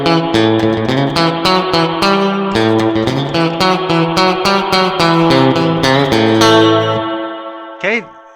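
Electric guitar chords ring through a bright, zingy spring reverb like that built into early Fender Deluxe Reverb amps, strummed rhythmically for about seven seconds, then a short twangy spring crash or boing near the end.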